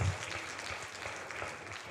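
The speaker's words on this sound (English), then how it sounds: "Can we give them a big, big round of applause?" An audience at a student debate with members of parliament gives a round of applause, a fairly faint, steady wash of many hands clapping heard from a distance across the whole stretch.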